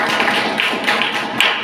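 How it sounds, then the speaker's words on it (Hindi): A small audience claps together at a home business meeting in Sumerpur, producing a dense, steady patter of hand claps with a few sharper taps standing out across the short stretch. "तालियां"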